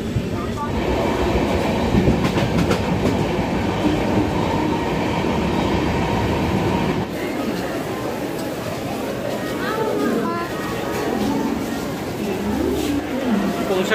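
A passenger train running on the rails toward Howrah, a steady loud rumble with clattering wheels throughout and a shift in tone about halfway, while people talk faintly in the background.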